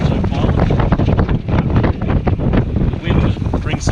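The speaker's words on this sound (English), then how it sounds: "The wind brings the sail across." Sailboat under way on Sydney Harbour in gusty wind of about 16 knots, with steady loud wind buffeting and rushing water noise filling the whole stretch, rising and falling with the gusts.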